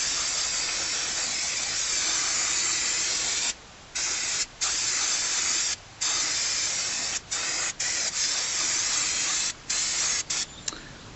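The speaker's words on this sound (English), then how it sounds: "give everything a good spray with brake cleaner" Brake cleaner sprays in long hissing bursts onto the rear brake calliper of a 2001 Mitsubishi Galant GLX SE 2000cc, with short pauses between blasts, close and steady, no talking.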